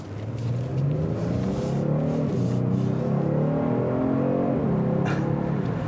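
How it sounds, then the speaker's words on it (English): A 2019 Genesis G70 3.3T with a twin-turbo V6 accelerating hard, its engine note climbing through rising revs with a shift or two, loud and close on an autocross course, no speech. "You gotta love that extra power from the V6."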